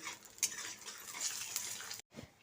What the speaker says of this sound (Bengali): ঢাকাটা খুলে আরও একবার ভালো করে নেড়ে চেড়ে নিচ্ছি